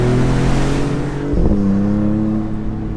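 The Maserati MC20 Cielo, an open-roof supercar, pulls hard out of a corner; its engine roars loudly with rising pitch, a quick gear change midway, then continues building revs close up.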